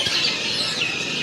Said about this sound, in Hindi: ये लैला चिड़िया है।